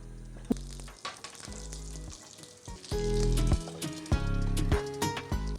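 Soft sizzling of stuffed capsicums frying in a little oil in a pan over very low heat, with irregular pops and crackles and occasional knocks, close and fairly quiet, no talking.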